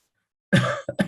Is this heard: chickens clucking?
no